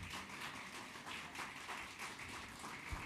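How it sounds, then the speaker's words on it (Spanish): Audience at a business panel in Santiago applauding steadily, a dense, even wash of many hands clapping that holds for about three seconds with no voices over it. "Voy a pedir un fuerte aplauso para cada uno"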